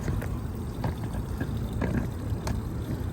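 Engine coolant drains out of a car into a pan during a thermostat swap, a continuous close pouring and splashing trickle with no talk.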